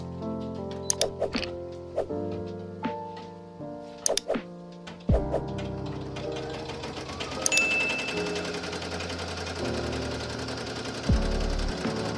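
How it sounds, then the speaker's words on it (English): An embroidery machine tacks down a piece of twill for a patch, its needle punching in quick mechanical bursts with thunks and pauses between runs, then settling into a steadier rattling stitch, close and moderately loud with no talking. "it's going to sew it down so that it does not move while it's embroidering the design"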